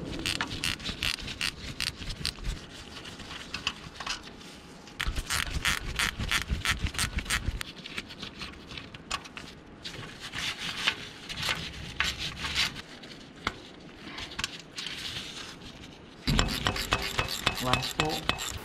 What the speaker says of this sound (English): Get a little ratcheting wrench. There's one, let's do the other four.